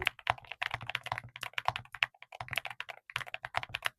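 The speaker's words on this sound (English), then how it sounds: "Here's the before sound on the keyboard." Mechanical keyboard with its stock switches, typed on quickly and continuously up close: a dense run of sharp key clacks and thocks with brief pauses and no voices.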